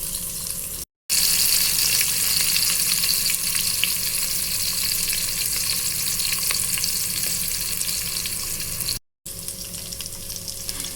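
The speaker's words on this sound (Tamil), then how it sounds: "வெங்காயம் பொன்னிறம் வர அளவுக்கு வதக்கி எடுத்துக்குவோம்." Chopped onions sauté in a pan for vegetable biryani with a steady, close sizzle and frying hiss that runs almost unbroken, interrupted by two brief silent gaps.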